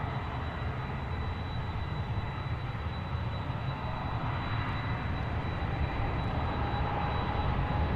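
Heavy jet taking off from runway 16 left at Seattle, a steady broadband roar heard at a distance, unbroken and fairly faint.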